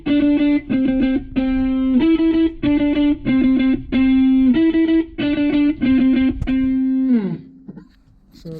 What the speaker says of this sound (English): now we are using the electric guitar for a riff that comes in the last chorus